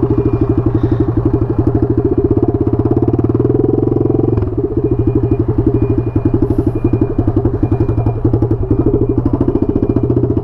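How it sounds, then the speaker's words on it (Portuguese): Honda XRE 300 motorcycle with a straight-pipe exhaust idling up close, a loud, rapid, even chugging pulse with a brief dip midway before settling back into the same rough beat. "quem já ouviu a XRE solcando sabe que berra demais. Faz muito barulho."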